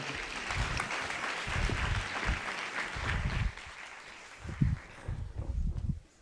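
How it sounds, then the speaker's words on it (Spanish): A conference audience at a talk on generative AI applauds an engineer, a fairly soft, continuous wash of clapping with some dips and low murmuring underneath. "les pido un fortísimo aplauso para don Fernando Gallego García"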